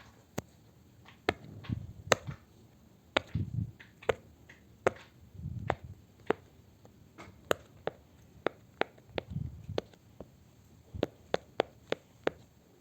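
Sharp, dry little pops from a pop-it fidget toy come one after another in an uneven rhythm, close by, with soft handling rustles between them.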